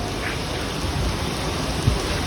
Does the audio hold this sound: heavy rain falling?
yes